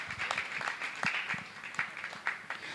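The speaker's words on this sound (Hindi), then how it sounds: "आपकी तालियां निरंतर बजती रहें।" Scattered, fairly faint audience clapping during an honouring ceremony at a Jain religious gathering, with separate claps at an uneven rhythm.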